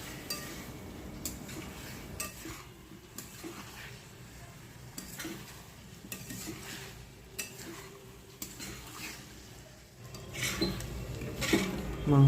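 Meat and spices sautéed and stirred in a pan for a Bengali meat curry: continuous soft scraping and stirring with a low sizzle, punctuated by light clinks of the utensil on the pan, growing louder toward the end.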